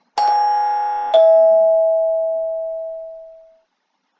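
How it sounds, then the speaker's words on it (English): A doorbell rings a two-tone ding-dong, the second chime ringing out and fading slowly into silence. "and a doorbell sound"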